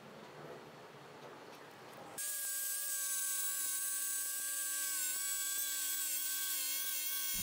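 Dremel rotary tool with a small saw blade cutting a piece of acrylic: after a soft scraping start, a loud, steady high-pitched whine kicks in abruptly and holds, close up, with no talking.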